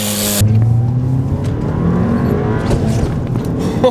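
A Stage 2 turbocharged Volkswagen GTI accelerating hard, a loud close engine roar climbing in pitch through the revs after a shift, with a harsh rasp and steady drive noise, no talking.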